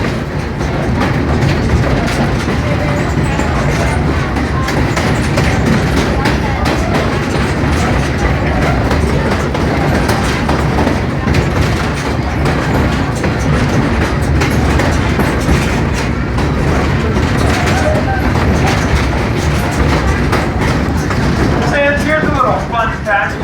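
A diesel train ride rattles and clatters steadily along the rails, a continuous loud rumble with rhythmic wheel clicks and a brief squeal near the end, with a voice talking over it.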